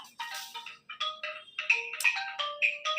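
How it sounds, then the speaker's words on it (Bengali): A mobile phone ringtone plays a bright, repeating electronic melody of quick chiming notes, close and clear with no other sound. "আমার আর একটা ফোন বাজা শুরু করেছে"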